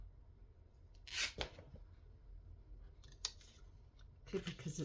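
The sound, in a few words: scissors cutting fabric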